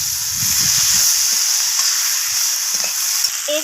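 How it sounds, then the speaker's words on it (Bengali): Garlic and ginger paste is stir-fried with fish roe in a hot pan, making a loud, continuous hissing sizzle, close up, with faint scraping of the stirring underneath and no voices. "তো আবারও সমস্ত কিছুকে নাড়াচাড়া করে কষিয়ে নেব"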